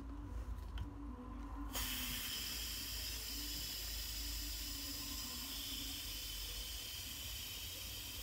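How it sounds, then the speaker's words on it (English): A spray bottle of cleaner misting down boxes gives a continuous close hissing spray that starts abruptly after a brief quiet moment and holds steady to the end, with no talking. "I'm just going to keep spraying down these boxes."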